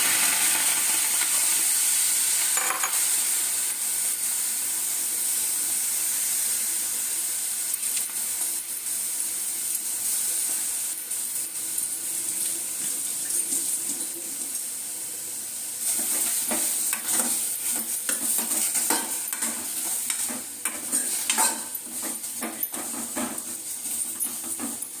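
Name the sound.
tomatoes sautéing in a pan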